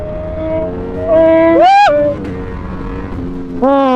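Ducati Streetfighter V4 motorcycle on the move, its engine note rising in sharp revving climbs and then easing off, loud and close.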